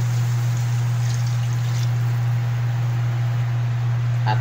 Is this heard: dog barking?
no